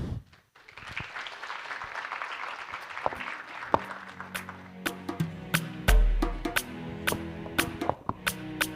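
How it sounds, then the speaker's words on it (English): Applause at a gala dinner celebrating a radio station's 30th year of uninterrupted broadcast: a dense, sustained roomful of clapping, with louder individual claps cracking through near the end. "A big round of applause again."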